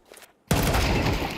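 A single sharp rifle shot in Counter-Strike cracks out after a brief quiet moment, followed by a sustained loud burst of echoing fire and impact.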